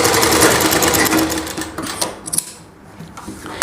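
A foot-operated treadle sewing machine stitches a Rajputi suit with a loud, close, rapid mechanical clatter that slows and quiets near the end before a brief restart.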